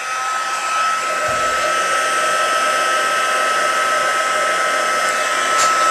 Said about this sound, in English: we're going to go ahead and use our heat tool to